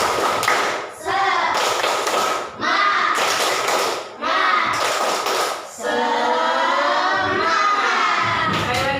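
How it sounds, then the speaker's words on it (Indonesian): Schoolchildren performing the tepuk semangat clap chant as a classroom ice breaker, bursts of group clapping and shouted chanting in several rounds separated by brief pauses, loud and close, with excited young voices. "ice breaking tepuk semangat"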